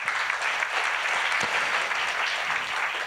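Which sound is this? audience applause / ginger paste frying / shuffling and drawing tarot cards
audience applause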